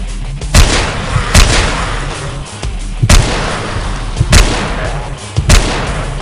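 Magnum revolver gunfire in the zombie shooter game DeadEpidemic: five or six loud, sharp shots at irregular intervals over a constant low rumble, with each blast ringing out briefly.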